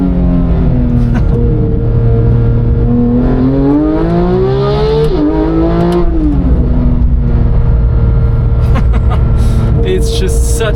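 A Porsche 911 GT3 engine revs loud and close, its pitch climbing and falling through the gears with a steady drone underneath, while a voice talks over it.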